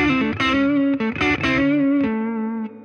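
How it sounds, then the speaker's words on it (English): Electric guitar through a Tube Screamer overdrive pedal plays a short phrase of gritty chords and ringing notes, loud and upfront, tapering off as the last note decays. "This is the tube screamer."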